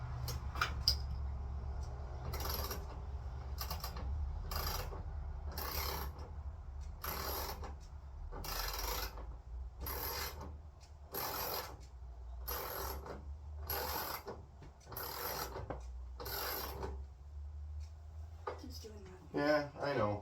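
Ratchet wrench at work during a teardown of a 1988 Mustang GT, sounding as evenly spaced bursts of close clicking about every second, repeated over a steady low rumble.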